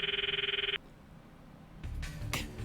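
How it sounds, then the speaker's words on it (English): Electronic phone ringtone from the visual novel game Steins;Gate ELITE, a bright pulsing trill for under a second that cuts off, followed by quieter game sounds and a short burst of noise. "I stop the video and call Mayuri's phone from my address book"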